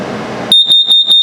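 A carbon monoxide detector in a 2022 Salem 22RBS RV sounds its test alarm: a loud, piercing high beep repeating in quick, even pulses right after a burst of rumbling background noise.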